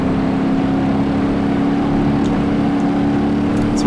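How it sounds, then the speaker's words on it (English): A car engine runs steadily in the driving game BeamNG Drive, giving a loud, constant droning hum with a slight rev variation and no talk. "Keep the engine going."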